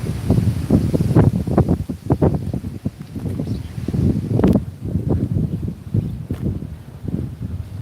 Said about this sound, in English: It really is getting windy now